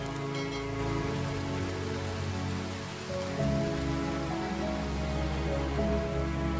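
Steady rain falls and patters on surfaces, a dense continuous hiss of raindrops that holds even throughout, with a low hum running beneath it and no voices.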